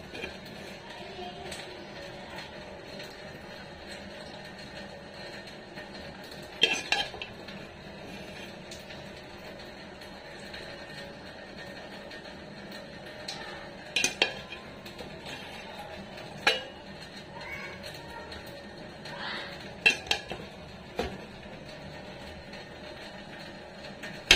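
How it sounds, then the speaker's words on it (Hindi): Matar pulao is served from a cooking pot into a dish, with soft scattered clinks and scrapes of utensil on metal over a steady low background hiss. "इसको भी निकालते हैं हम डिश में"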